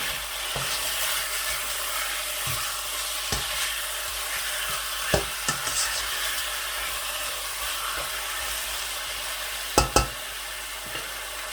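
Chicken fried rice fries in a pan with a constant loud sizzle, punctuated by occasional scraping and clanking strokes of a stirring utensil.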